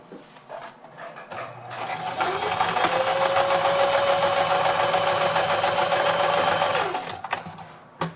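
A sewing machine runs a straight seam along a folded 8 by 8 fabric square, a steady rapid whirring stitch that builds up after a brief start and holds loud for several seconds before stopping.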